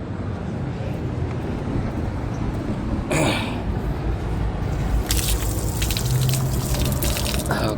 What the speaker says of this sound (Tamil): சாப்பிட்றதுக்கு முன்னாடி கை வாஷ் பண்ணிடுவோம் வாங்க